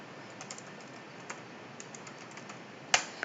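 Typing on a computer keyboard while using ChatGPT: sparse, quiet individual key taps scattered across the stretch, ending with a louder cluster of clicks near the end.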